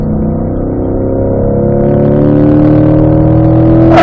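A Corvette accelerates hard on a race track, its engine note rising steadily in pitch and loudness as it pulls through the gears, loud and close with no talking.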